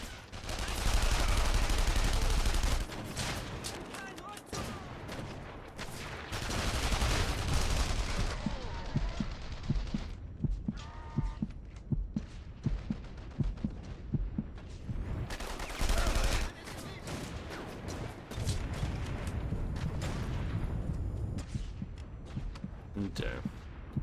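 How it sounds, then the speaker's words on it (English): Gunfire from unseen snipers in The Saboteur cracks out in loud, repeated bursts over heavy rumbling action. There are rapid volleys and a few dense, sustained stretches, with occasional brief lulls between them. "I'm getting sniped at by people that I can't actually see"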